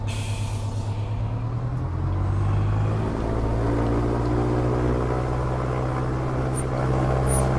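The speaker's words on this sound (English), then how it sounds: "I'm going to bring this off screen so you can enjoy this takeoff" A Piper PA-28-181 Archer III in the Prepar3D flight simulator runs its single propeller engine for takeoff, a steady loud drone with harmonic hum that swells slightly as power builds, with no talking.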